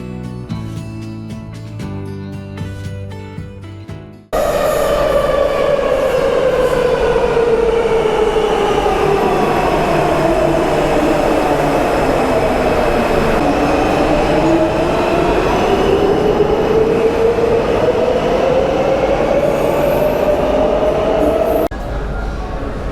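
A metro train at Warsaw's Gdańska station roars in loudly after a few seconds of background music, its long rumble carrying a rising and falling wheel whine for many seconds before easing off near the end.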